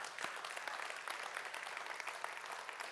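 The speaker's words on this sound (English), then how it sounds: "why don't we just give a massive round of applause to our Kids Church team" A church congregation gives a sustained round of applause for the Kids Church team, a dense, even wash of many hands clapping at moderate level throughout.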